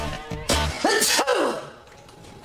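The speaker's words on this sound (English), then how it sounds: "there's another sneeze on the way" A sharp, explosive sneeze bursts out after a quick intake of breath, close and loud, followed by a fading breathy exhale.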